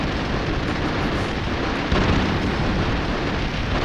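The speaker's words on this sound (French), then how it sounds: "un peu d'explosion" Explosions in the video game Broforce form a dense, continuous roaring blast that fills the clip, with a louder burst about halfway through and no voices.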